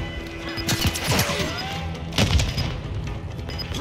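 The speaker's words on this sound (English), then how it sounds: "Grenade out!" Grenade explosion in Call of Duty Modern Warfare 2 multiplayer, with a heavy boom and crash followed by a second blast amid ongoing gunfire and battlefield clutter.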